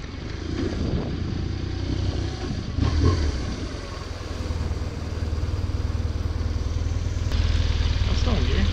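Old BMW motorcycle engine, bought for $350 and ridden for the first time in over two years, runs with a steady low rumble and slight rises in revs, with people talking over it.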